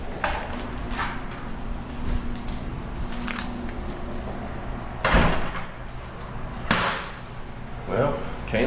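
A truck cab door shuts with a couple of sharp thuds over steady engine idle, a hollow latch-like knock standing out clearly near the end.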